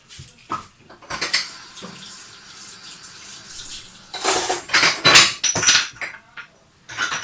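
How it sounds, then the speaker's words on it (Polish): Dishes and cutlery are washed in a home kitchen sink after preparing homemade baked kebab with fries and cheese, with running tap water under clinks and clatters of plates and utensils that grow louder and busier in the second half. "Od razu po sobie wszystko myjemy."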